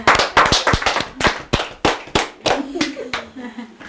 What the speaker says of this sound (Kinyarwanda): Twiha amashyi.